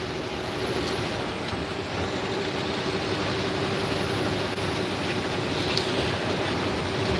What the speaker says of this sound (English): Ooh, a train, a train.